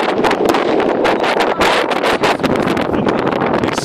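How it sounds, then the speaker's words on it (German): Strong wind blasts across the microphone in loud, rapid gusts, a harsh continuous roar with no talking. "Extrem windig."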